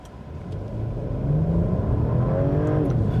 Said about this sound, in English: This time I won't brake torque it, we'll just floor it.